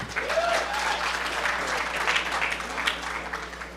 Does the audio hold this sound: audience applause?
yes